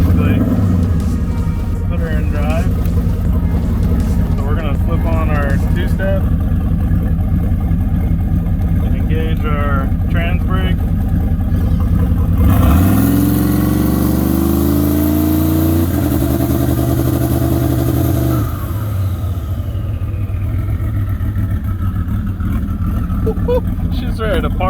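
A turbocharged 4.8 Silverado 4x4 truck engine runs loud and close, revving and climbing in pitch as it holds on a two-step launch limiter, then settling back to a rough idle, with voices talking over it.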